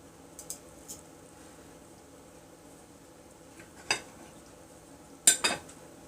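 Cutlery scrapes and taps on a plate of portobello mushrooms a la Mexicana with rice, faint quiet clinks scattered over a few seconds with a couple of brief louder scrapes near the end.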